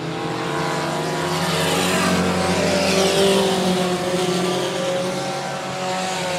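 Race cars roar around the 105 Speedway oval during a regular race program, a loud continuous engine drone with rising and falling pitch as the pack passes, steady throughout with no talk.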